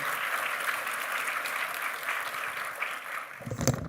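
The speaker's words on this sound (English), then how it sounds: "Let's give her another round of applause to Elizabeth" An audience at a nursing school pinning ceremony gives a steady round of applause for a graduate named Elizabeth. The clapping is continuous and moderately distant, with a few louder claps near the end.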